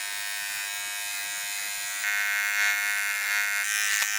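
A Wilkinson Sword electric hair clipper hums steadily up close while edging the hairline, its pitch and loudness shifting slightly as it moves against hair, with no speech.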